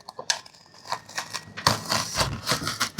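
Blade slicing through Dodo Mat thermo liner inside a Sprinter campervan, a run of close, crisp scraping and crackling cuts with short pauses between strokes, no voices.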